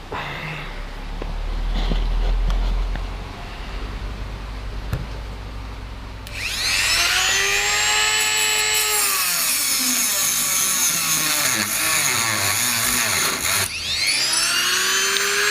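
A power tool cuts through a shock absorber being shortened for an MBK moped project, starting abruptly partway in with a loud, whining grind that bends in pitch as the blade bites, pausing briefly near the end before resuming.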